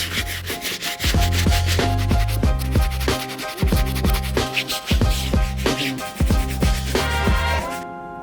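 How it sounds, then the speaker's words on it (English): A medium bristle brush scrubs mud and grime from the midsoles of Brooks running shoes in quick back-and-forth strokes, a loud, rhythmic rasping scrub that repeats steadily and stops just before the end. "For the medium brush, I'm just gonna be focusing on the midsoles, go back and forth until all that mud and grime is out of the crevices"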